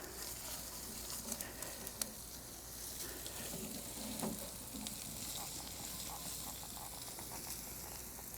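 Chorizo cooks in a pan, a steady, soft sizzle and crackle of frying with faint stirring, close and alone without speech.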